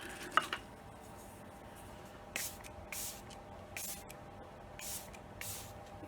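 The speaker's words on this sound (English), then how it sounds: "let me use a little setting spray" Short hissing bursts of a makeup setting spray bottle, five or six quick sprays in a loose rhythm, close and fairly quiet.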